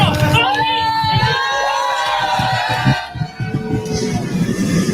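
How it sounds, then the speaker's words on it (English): A rally crowd shouts in loud displeasure, a dense mass of overlapping angry voices and jeers close by, with one voice rising above the din before the noise swells again. "So you could hear the crowd obviously was not pleased with what he was saying"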